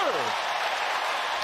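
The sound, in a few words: crowd applause at Clippers basketball game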